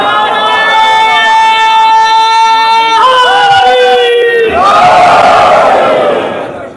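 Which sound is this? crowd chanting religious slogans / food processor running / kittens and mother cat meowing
crowd chanting religious slogans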